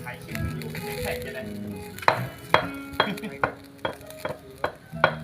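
Whole frogs grilling for a Thai spicy frog salad, with a steady close sizzle and crackle. Sharp clacks and scrapes of tongs or utensils against the grill or pan repeat through the second half.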